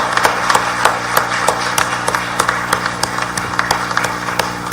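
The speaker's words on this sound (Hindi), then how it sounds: "एक बार फिर से हम honourable chief minister honourable mister का तालियों की गड़गड़ाहट के साथ स्वागत कर रहे हैं" An audience claps in steady, dense applause to welcome the Chief Minister at a Mumbai Climate Week event, sharp individual claps standing out over a continuous hall din.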